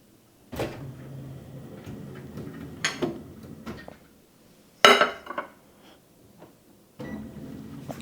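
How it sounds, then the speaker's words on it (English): A s'more is placed into a microwave, with clinks of a plate or dish, a door opening, a sharp thud or clack midway, and more handling noises close by in a quiet kitchen. "let's put it in the microwave"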